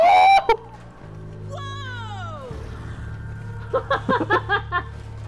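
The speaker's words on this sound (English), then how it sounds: "It's a bird." A video-game bird cries out in a short run of rising and falling chirps in the middle, while players talk and laugh over steady game background sounds. A series of rhythmic clucking pulses follows near the end.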